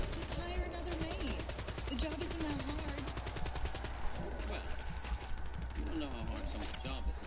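Rapid automatic gunfire crackles steadily from a video game, a dense burst of repeated shots running throughout under game sound and voices, consistent with shotgun blasts in rapid succession.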